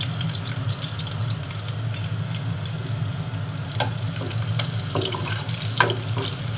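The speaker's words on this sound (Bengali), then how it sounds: "পেঁয়াজ দিয়ে দিচ্ছি প্রথমে" Onions go into a frying pan for a Korean-style rice dish, giving a steady low sizzle with a few soft clinks and stirring knocks near the end and no talking.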